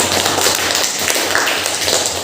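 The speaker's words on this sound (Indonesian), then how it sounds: "Beri tepuk tangan." A classroom of students clapping together, a brisk burst of many sharp overlapping hand claps close by, lasting a couple of seconds with no talk over it.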